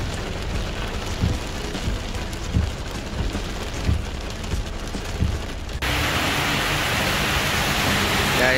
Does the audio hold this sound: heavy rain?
yes